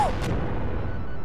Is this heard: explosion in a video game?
yes